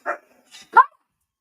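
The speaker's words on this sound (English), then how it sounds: "Oh my god, the dog's gone nuts." A dog nearby lets out three short, sharp barks in quick succession, each clipped off with brief silence between them.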